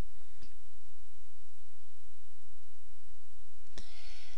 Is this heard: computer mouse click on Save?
yes